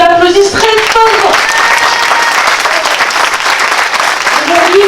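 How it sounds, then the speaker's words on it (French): Outdoor crowd at a local gathering in Malestroit gives loud, sustained applause, dense clapping filling the whole stretch with voices and cheers mixed in over it. "je veux qu'on l'applaudisse très fort."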